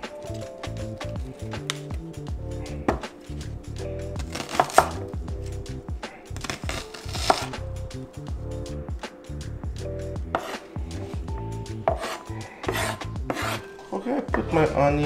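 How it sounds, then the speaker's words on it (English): A knife chops an onion into small pieces on a board while preparing keto stuffed grape leaves, a fast run of sharp, close taps and rasping cuts over background music, with no talk. "chopping the onion to the very small pieces"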